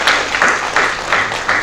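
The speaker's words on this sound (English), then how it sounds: "A round of applause, please," Clapping at a business conference on Africa as panelists are welcomed, a short burst of steady rhythmic applause close by, with about five evenly spaced claps.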